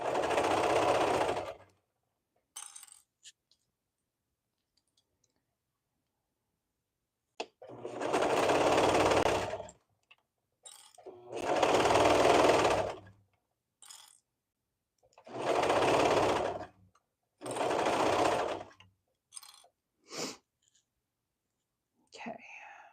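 Sewing machine stitching a knit Cascade Tee, several close, buzzing runs of rapid stitching a few seconds each, separated by quiet pauses with soft handling sounds.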